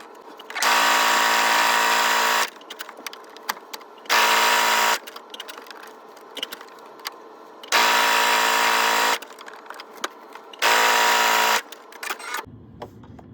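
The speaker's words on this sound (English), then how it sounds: "we are going to sew at a 1/4 inch seam allowance, leaving the top open" A sewing machine stitches a 1/4 inch seam on fabric for a DIY can koozie or dog bandana, running in four loud, steady bursts of whirring, each one to two seconds long, with short quiet gaps and small handling clicks between them.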